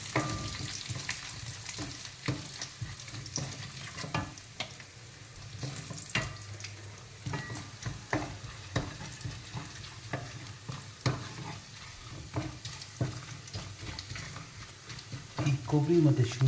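Grated coconut, ginger and cashews fry in oil in a pan for pongal, giving a soft steady sizzle punctuated by repeated clicks and scrapes of a spoon stirring against the pan, close up.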